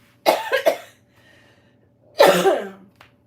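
Two bursts of harsh, close coughing, a double cough followed after a pause by a longer one, with quiet between.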